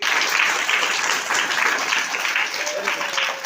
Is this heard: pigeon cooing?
no